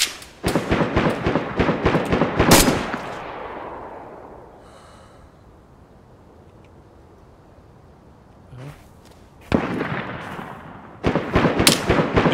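Gunfire in the survival game DayZ: rapid bursts of sharp, loud shots crack out, fade into a quiet stretch, then resume with more bursts near the end, one faint isolated shot in between.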